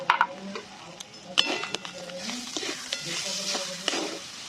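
Spices and peanuts fry for a raw banana chop while a utensil stirs the pan, making soft sizzling under repeated scraping and clinking strokes with irregular knocks against the metal.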